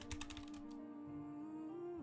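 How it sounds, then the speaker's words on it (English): A pen taps quickly and softly on a tablet screen while someone types, a brief cluster of faint clicks at the start that gives way to quiet, sustained background music. "Typing with a pen is a nightmare."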